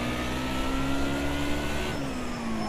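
A car engine in a league racing video game holds near redline, a loud, steady high-revving drone that climbs slightly in pitch. No one speaks over it.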